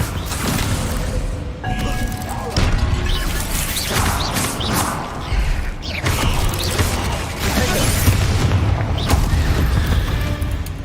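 Spell blasts from Bombarda and Confringo in the Hogwarts Legacy video game, heard as loud, dense booms and crashing impacts with creaking, mechanical clatter running continuously over a busy game soundscape.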